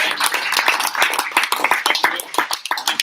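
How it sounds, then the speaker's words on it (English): Audience applause for the candidates at a meet-the-candidates event in Laurieton, dense clapping from a modest crowd, close and lively throughout. "if we could just give the candidates a round of applause for today."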